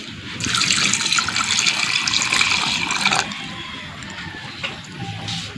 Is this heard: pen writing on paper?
no